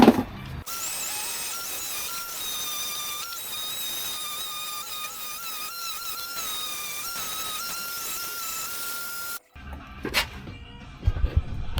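A power sander works on scratched fibreglass on a boat hull, giving a steady high whine with small pitch shifts as it is pressed and moved. It cuts off near the end, followed by brief handling noises.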